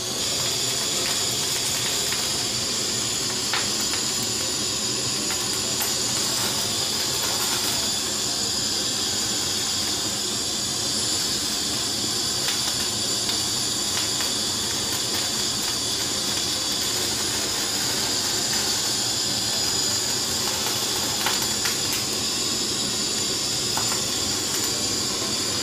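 Bonito skewered and seared over burning straw gives a steady, dense hiss and crackle with scattered sharp pops, loud and close for the whole stretch with no voices.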